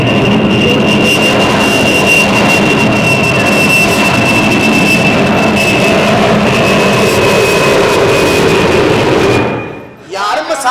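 A jet airliner arrives at an airport: a loud, continuous engine roar with a steady high whine holds for about ten seconds before dipping and cutting away near the end.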